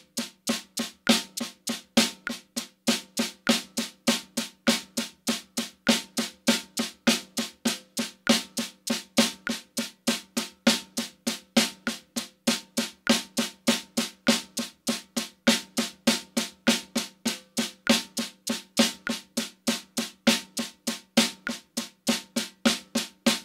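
A drum rudiment sticking pattern at 50 BPM produces evenly spaced, crisp sharp strikes in a steady repeating pulse, played close and alone for over twenty seconds without talking.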